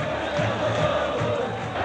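Brazilian football fans of São Paulo celebrate the 1987 national championship after a penalty shootout win, a dense roaring crowd with sustained cheering and chanting, loud and continuous.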